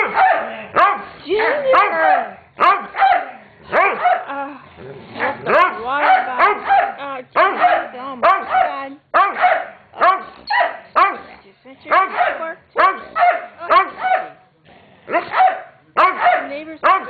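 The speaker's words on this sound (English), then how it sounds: "neighbors probably think I have a dog fight going in here" Several dogs bark, yip and snarl indoors in dense, rapid bursts like a scuffle, close and loud throughout, with a person shouting over them.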